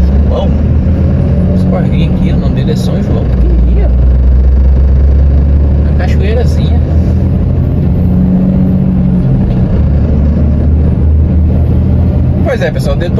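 Trucks rumble past on the BR-393 highway near Sapucaia, Rio de Janeiro, with a steady low engine roar that swells as vehicles go by, and someone talks over the traffic throughout.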